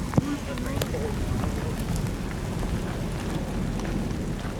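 Heavy rain pours down on a road during a Kansas storm, a loud, dense, continuous wash of rainfall with a brief sharp knock near the start.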